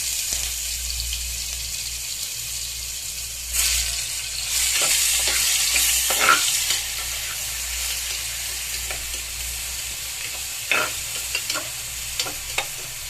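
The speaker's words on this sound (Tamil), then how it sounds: "வெங்காயம் நல்லா இங்கே கோல்டு கலர் ஆகும்." Small onions fry in hot oil with cinnamon, biryani flower and bay leaf for chicken biryani. A steady close sizzle is broken by bursts of spoon scraping and stirring.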